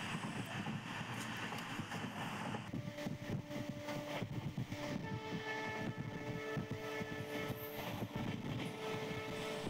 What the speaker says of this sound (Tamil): இப்போ நம்ம கண்டனூர் புதுவேலி ஸ்டேஷனை 110 km/hல் செம்ம ஸ்பீடில் ஸ்கிப் பண்ணி போயிட்டுருக்கோம்